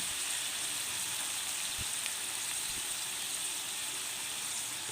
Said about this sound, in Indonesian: Kemudian ini aku goreng dulu ya tahunya.